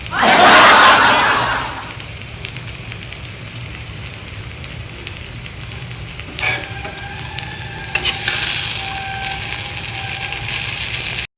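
Chopped capsicum, French beans, onion, ginger and green chillies hitting a hot kadhai for street-style chowmein, with a loud sizzle bursting up at first, then settling into steady frying and stirring clatter.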